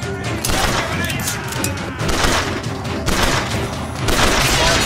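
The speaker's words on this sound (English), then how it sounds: "What the hell is shooting at me, man?" Sustained video-game gunfire in BioShock Infinite, dense overlapping shots and bursts with booming impacts, loud and close throughout, with a few heavier surges of fire.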